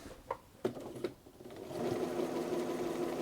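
A Bernina 930 Record electronic sewing machine, bobbin case removed, gives a few short clicks and then settles into a steady, close, continuous whirring run.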